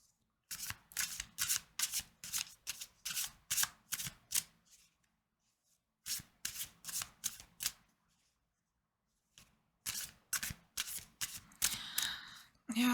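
Tarot cards are shuffled close up in three separate bursts of rapid riffling flicks, each run of crisp slaps broken by short pauses, with a voice speaking briefly near the end.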